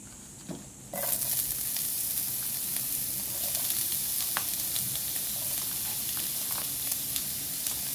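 Onion sautéing in a preheated pan for tuna pasta, a loud hissing sizzle that bursts in after a quiet second and then holds steady, with scattered crackles and stirring scrapes.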